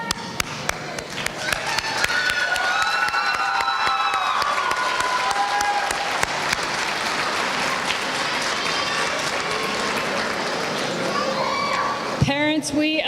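Sustained audience applause at a Utah Virtual Academy graduation ceremony fills the space, steady and loud, with scattered cheers and children's voices mixed in before it fades.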